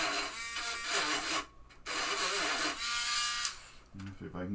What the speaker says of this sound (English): you're just going to take your Dremel with your 443 bit and just go in the grooves there